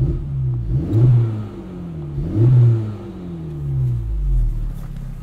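A 2024 Acura Integra Type S with a 2-liter turbocharged inline four revs repeatedly, three loud rising and falling engine swells, close and clear, with no talking.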